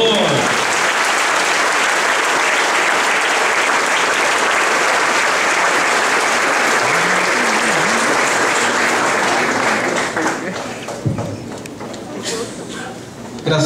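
A church congregation applauds at a 2012 youth pre-congress service, loud sustained clapping from a packed room that fades near the end as a voice speaks over it.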